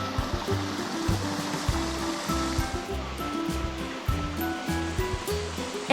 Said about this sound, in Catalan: El torrent encara segueix